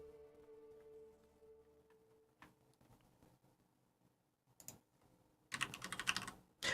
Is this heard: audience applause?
no